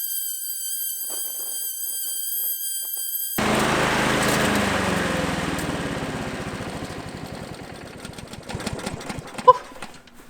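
A powered lawn dethatcher working TifTuf Bermuda (couch) grass kicks in abruptly after a few seconds, running loud and steady with a broad mechanical roar that gradually eases, ending with a few sharp knocks.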